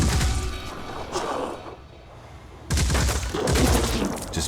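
Sniper fire in the video game Phoenix Point: heavy booming gunshots in loud bursts, a rough volley, a short lull, then another sudden barrage of shots and rumbling impacts.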